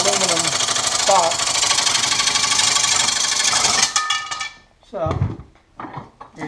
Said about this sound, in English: because it's a reciprocating saw, you have to use a really, really light touch